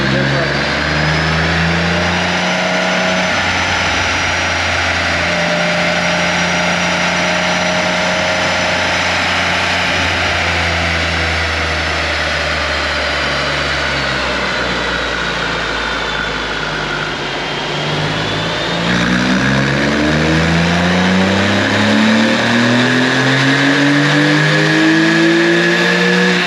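A 2000 Porsche 911 revs hard in third gear on a dyno, a loud rising engine howl climbing steadily in pitch, easing off and then winding up again, with people talking nearby.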